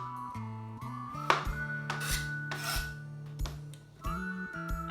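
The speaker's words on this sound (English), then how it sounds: "I'm having a tough time peeling it with the peeler, so I'm just going to get the rest of that off." Knife paring the skin off a vegetable for a meatless meatball sub, a series of close scraping and rasping strokes with small clinks in between, irregular rhythm, no voices.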